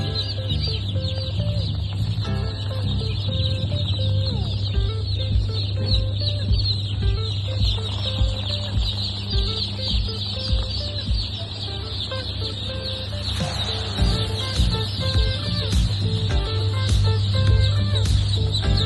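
Constant chorus of chirping and peeping from many newly hatched chicks, including Sasso and Gramalakshmi breeds, with occasional clucks, steady and close throughout.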